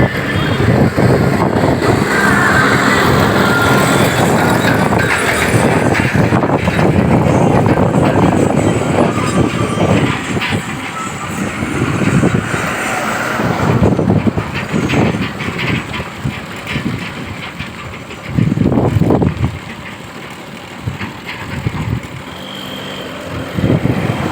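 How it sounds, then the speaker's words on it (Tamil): Heavy traffic on a national highway, a continuous loud roar of passing vehicles with engine rumble and swells as trucks and cars go by close. "நேஷ்னல் ஹைவேயில் போயிட்டுருக்கான் வண்டி அதிகமாக வந்துட்டு தான் இருக்கும்"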